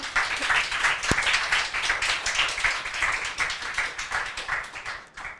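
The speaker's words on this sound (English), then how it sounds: "Please give me and Peggy a round of applause" A crowd claps and applauds steadily for several seconds, a dense wash of hand claps that stays fairly even before tapering at the end.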